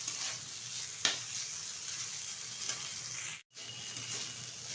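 Flattened rice sizzles steadily as it fries in ghee in a wok, with a continuous close hiss and a couple of brief stirring scrapes, no voices.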